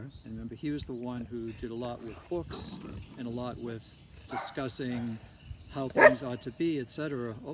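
An old dog barks repeatedly in a steady series of loud, close woofs, overlapping someone talking.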